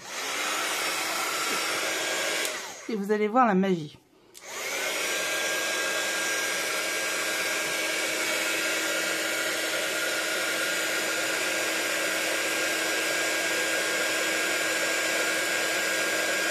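A loud, steady blowing roar from an embossing heat gun runs almost the whole time, broken briefly by a few spoken words and a short pause before it resumes.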